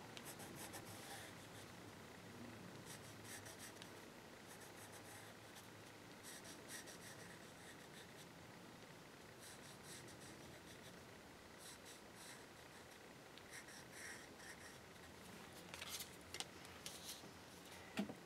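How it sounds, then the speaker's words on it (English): A Derwent watercolor pencil scratches and rubs across paper in soft, close strokes, a quiet continuous scribbling with brief pauses and faint taps. "It's just a plain Derwent watercolor pencil. And let's draw some lemony shapes"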